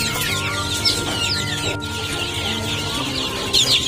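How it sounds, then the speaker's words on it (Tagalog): A crowd of one-week-old Rhode Island Red chicks peep continuously in a brooder of about a hundred birds, their high chirps overlapping in a dense, steady chatter with a few louder calls standing out nearby. "Ito yung mga Rhode Island Red na inaalagaan ko ngayon."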